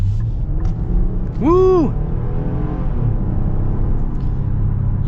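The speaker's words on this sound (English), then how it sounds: "we are going to get our acceleration now, and I suppose we'll pop into the sport mode for the acceleration" 2023 Nissan Pathfinder Platinum with a 9-speed transmission accelerating in sport mode, a steady engine rumble building under the cabin, with a short excited shout partway through.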